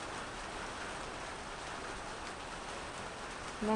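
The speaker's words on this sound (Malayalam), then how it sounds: "മഴ" Steady rain falls in an even, close hiss throughout, without pause.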